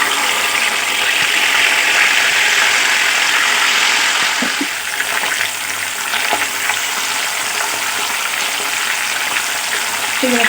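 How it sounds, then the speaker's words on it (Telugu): Fish pieces fry in oil in a pan for fish curry, producing a loud, continuous close-up sizzle that eases slightly midway, with occasional faint clicks of turning or stirring. "ఇప్పుడు చల్లారిన పీసులన్నీ ఒక్కొక్కటి వేసుకుని కొంచెం ఫ్రై చేయాలి."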